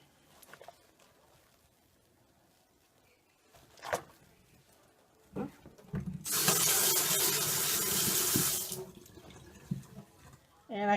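Bath water pours loudly from a tap into a tub for a few seconds as a candy cane bath bomb fizzes and dissolves, framed by quieter splashes and handling noises before and after.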